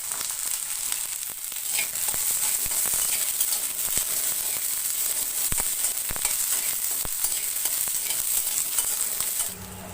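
Garlic fries in hot oil for a Tamil fish curry, giving a bright, steady sizzle with sharp spatula taps and scrapes throughout, then dropping off abruptly at the end.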